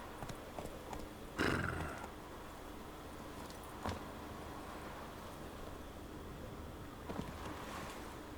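Roach the horse in The Witcher 3, faint hoof clip-clops over a quiet wash of ambient game sound, with a louder burst near the start and a couple of brief thuds later.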